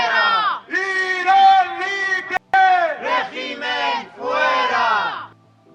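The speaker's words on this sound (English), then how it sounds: "Video obtained by Iran International shows the crowd chanting for freedom." Crowd of Iranian diaspora protesters in Madrid chanting for freedom, loud rhythmic shouted chants in repeated bursts with brief pauses, close and dominant.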